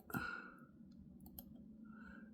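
A couple of faint, sharp computer mouse clicks, one near the start and another a moment later, set against a quiet low room hum.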